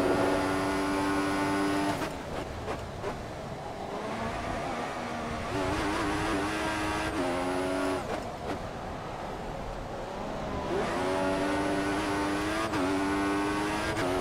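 An F1 race car in the F1 2014 video game during qualifying at the Singapore Grand Prix, a loud continuous high-revving engine whine rising and dropping through gear shifts, close and alone for the whole stretch.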